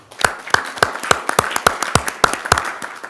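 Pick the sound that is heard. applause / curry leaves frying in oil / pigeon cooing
applause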